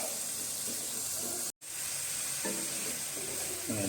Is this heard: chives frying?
yes